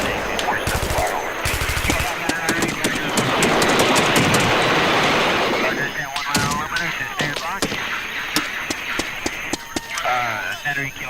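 Artillery and gunfire in combat during Operation Swift, with sharp repeated bursts and loud blasts scattered across a dense noisy background, some shots in quick rapid succession.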